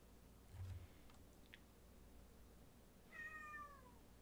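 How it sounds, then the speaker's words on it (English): A cat meows once, a short, faint, rising-then-falling cry near the end, heard over a quiet room hum with a few soft clicks earlier on. "That was a cat."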